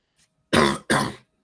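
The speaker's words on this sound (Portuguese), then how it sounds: "eu tô tossindo muito" Two loud, close coughs in quick succession, each a harsh burst lasting about a quarter second, with near silence around them.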